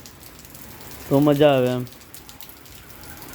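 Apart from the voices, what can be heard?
rain falling in Chhara village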